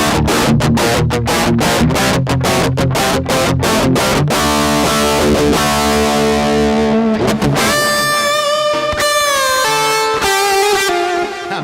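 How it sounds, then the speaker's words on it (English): Electric guitar played through a distortion pedal into a crunchy amp channel with a scooped metal tone, loud and close: a burst of fast palm-muted chugs, then sustained ringing chords and held lead notes with no talking. "This makes that scooped metal sound, the straight up distortion into the crunchy channel."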